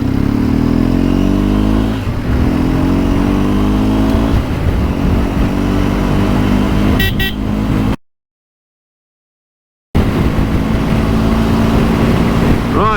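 Racing motorcycles at the Southern 100 road races roar loudly and close, with rising and falling revs as they accelerate. The sound cuts to complete silence for about two seconds, then the engine noise resumes.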